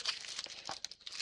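Items slide back into a small crinkly pouch from a 5stitch sewing toolkit, giving a close, continuous run of plastic crinkling and rustling with a few sharper crackles, no voices.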